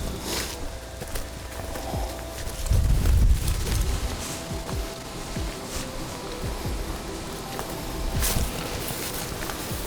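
Steady breezy wind rushes across an open field during deer hunting season, a continuous broadband whoosh with gusts swelling around a few moments, plus faint rustling steps and low buffeting on the microphone.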